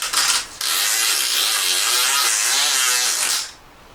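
Abrasive polishing on a smooth piece of silver jewellery, a steady loud buzzing grind that runs continuously for about three seconds after a brief start, then cuts off abruptly.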